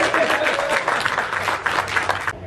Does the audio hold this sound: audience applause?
yes